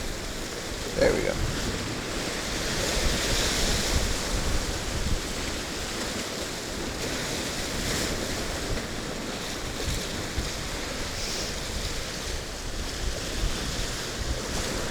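Ocean surf washes continuously onto a shore in Japan, a broad steady roar of waves mixed with wind noise, with a faint voice briefly under it.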